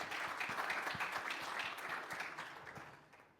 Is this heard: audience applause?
yes